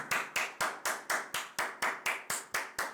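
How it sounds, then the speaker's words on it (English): A round of applause for PR and marketing rings out in evenly spaced claps, about eleven sharp hits in three seconds, sounding like one or a few people clapping in steady rhythm rather than a full crowd. "Can we have a round of applause for PR and marketing?"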